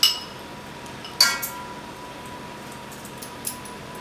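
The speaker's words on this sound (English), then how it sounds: "I'm going to be placing 2 tablespoons full of that into our rice dish here" Spoon clinking against a rice pot as pilau spice is added, two or three brief, light metallic taps in a quiet kitchen, no talk.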